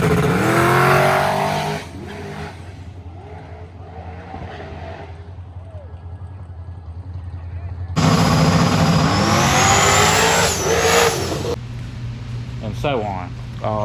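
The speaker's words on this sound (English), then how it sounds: "spinning tires and hitting the limiter" A car roars at high RPM during burnouts, tires spinning and screeching as the engine bounces off the rev limiter, loud and continuous with bursts of squeal and crowd-like noise.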